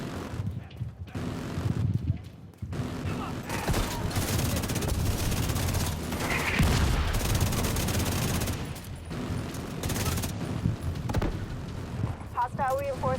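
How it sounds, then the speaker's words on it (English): Autocannon fire in the Division 2 shooter game on heroic difficulty, dense continuous rattling bursts with explosions and impacts throughout, mixed under a speaking voice. "The autocannon seems to be firing blind."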